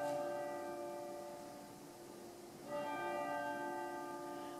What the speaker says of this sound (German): Und die Kirchenglocke.